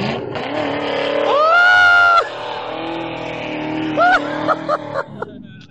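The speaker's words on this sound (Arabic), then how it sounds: "يتقدم الوحش راكان فورد اف 350" A stock Ford F-350 truck engine revs and drives at a sand dune-bashing event, rising to a loud sustained roar, then easing and giving short throttle blips.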